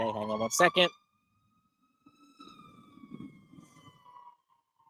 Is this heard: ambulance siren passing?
yes